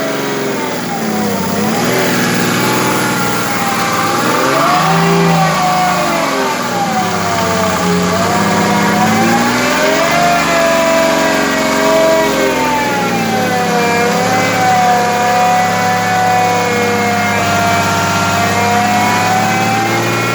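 A loud Mercedes OM606 diesel engine driving a water pump, started without glow plugs, running close by, revving up and down repeatedly with a rough, steady drone between surges.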